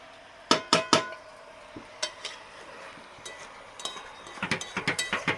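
A utensil stirs duck meat in a cooking pot, giving a run of sharp metallic scrapes and clinks in irregular bursts, close and fairly loud, with a denser cluster of quick taps near the end; no talking.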